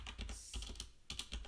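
Keys clatter quickly on a computer keyboard, a short, quiet burst of separate taps with no voices.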